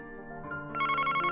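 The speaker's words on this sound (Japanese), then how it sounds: "あら、電話だわ。" A telephone in the Famicom detective adventure Famicom Tantei Club rings with an electronic, chiptune-style bell tone that grows louder and busier partway through, heard alone with no talking.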